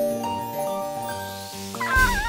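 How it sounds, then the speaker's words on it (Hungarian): A cartoon kitten meows in a children's fairy-tale cartoon over a backdrop of loud music, its cry rising briefly near the end. "Ó, hova mész ilyen gyorsan, kis cica?"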